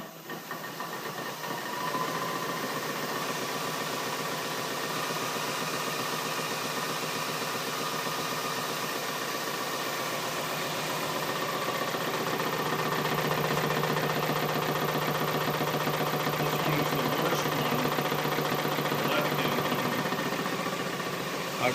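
A330 model electric motors run with the throttle eased just above idle, producing a steady, even whirring hum that holds constant and rises slightly partway through.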